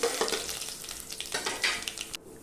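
Mustard seeds, dals, curry leaves and green chillies fry in hot oil for lemon rice, giving a steady loud crackling sizzle with stirring scrapes, close up, ending abruptly.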